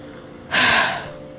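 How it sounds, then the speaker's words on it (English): A single sharp breath is drawn in close to a microphone, a brief airy gasp that swells and then fades. "See me breathing into the mic."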